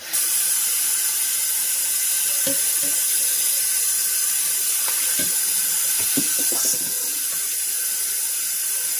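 Cold tap water runs in a steady hiss into a sink while potatoes are rinsed of starch, with occasional clunks and knocks of the potatoes, close and continuous.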